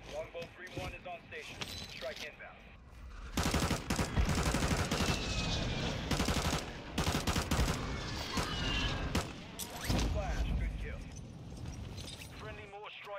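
Automatic gunfire and explosions in Call of Duty Modern Warfare 2 Warzone, heavy bursts that come and go in waves over several seconds, loud and close, mixed with game voice callouts and a player talking.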